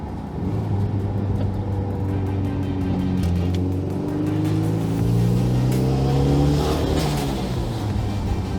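Heavy Audi car engine with a custom setup producing around 400 wheel horsepower, revving steadily up and down for several seconds, loud and close with rising and falling harmonic tones and no talking.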